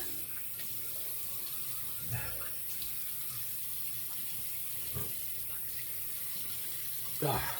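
A tap runs steadily into a sink as a Manscaped Plow 2.0 razor head is wetted, a constant close splashing hiss with a few faint knocks.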